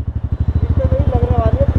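A Hero Xpulse motorcycle's single-cylinder engine thumps in a fast, even pulse while riding, close and steady, with someone talking over it.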